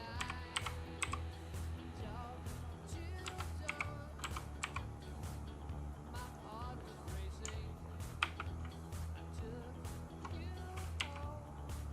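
Rapid typing on a Zebronics ZEB-Max Pro keyboard, a dense stream of crisp key clicks with irregular rhythm, close and fairly quiet, with faint talk underneath.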